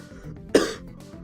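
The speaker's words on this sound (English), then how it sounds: "Sorry, I'm a bit coughing." A single short cough, close and fairly loud, alone with faint background hum.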